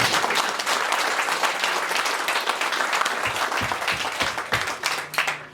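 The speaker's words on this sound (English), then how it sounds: "Can you clap for that?" Mourners at a eulogy clap in steady, dense applause that fills the hall, with a few louder individual claps near the end and a brief hum as it trails off.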